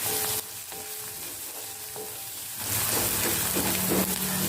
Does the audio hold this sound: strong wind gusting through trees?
no